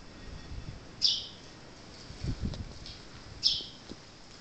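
A sparrow perched on a cable gives two brief, thin chirps spaced a couple of seconds apart. The calls are fairly faint against soft outdoor background noise.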